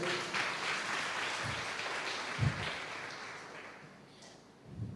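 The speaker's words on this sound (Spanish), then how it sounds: "Dele un aplauso fuerte a Dios." A church congregation applauds with steady, dense clapping from many people that keeps going for several seconds and swells slightly at the end, with no voices over it.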